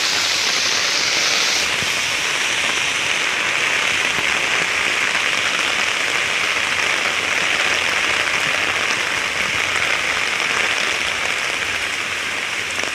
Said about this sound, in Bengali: দেখুন কি জোরে বৃষ্টি হচ্ছে শুধু।